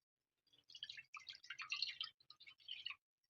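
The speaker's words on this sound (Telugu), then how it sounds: "దీంట్లోకి ఒక గ్లాస్ వాటర్ పోసుకుందాం." A glass of water is poured into a kadai on a stove, giving a faint, short run of splashing and dripping that lasts a few seconds with small pauses.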